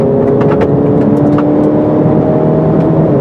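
A Mazda6 with a 2.2 SKYACTIV-D 175 hp turbo diesel accelerates flat out from 80 to 120 km/h in automatic mode, giving a loud, steady droning engine note that climbs gradually in pitch, heard close up from inside the cabin.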